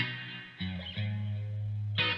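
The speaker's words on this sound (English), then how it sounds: "I'm going to really make like a lush reverb sound" Electric guitar played through a Vox StompLab 1G multi-effects pedal with its spring reverb model set lush: sustained chords ring with a long, washy tail, one strum near the start, another around the middle and a bright restrike near the end, no talking.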